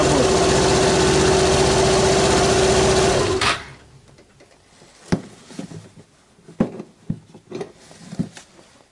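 A Yamaha Grand Majesty scooter engine idles with a fast, buzzing putter for a few seconds after a spark plug replacement, then shuts off, leaving scattered clicks and light handling noises.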